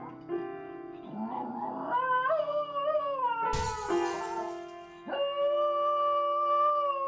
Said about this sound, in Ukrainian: Він грає і співає, точніше виє, але робить це дуже старанно та мімімішно.